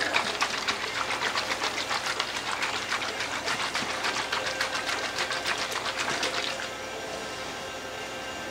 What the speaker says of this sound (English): Put a lid on it. Make sure it's snug. Bring it over the top. Shake it up real good.